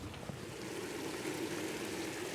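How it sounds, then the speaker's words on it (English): Liquid nitrogen churns and bubbles as a faint, continuous hiss and rush, like a soft stream, heard close up without talk. "You can hear it churning and bubbling."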